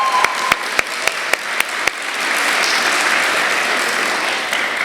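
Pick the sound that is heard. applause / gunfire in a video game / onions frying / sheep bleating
applause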